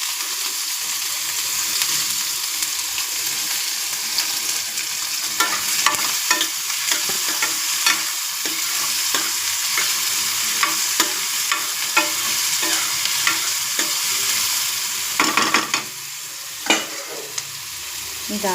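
Curry leaves and cumin crackle and hiss in hot oil in a pan for a cluster bean palya. The dense sizzle is broken up by repeated stirring scrapes and a few sharper pops toward the end.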